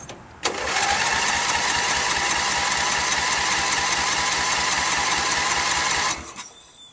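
Starter cranking on a Sears Craftsman riding mower, a steady rapid churning run for about six seconds without the engine catching, loud and close with no talk, then stopping abruptly.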